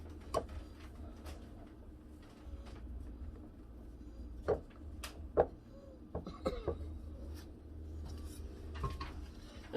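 A keto blackberry mousse mixture is folded in a bowl, giving soft scraping and irregular light clinks of a utensil against the bowl, with a few sharper taps over a quiet room background.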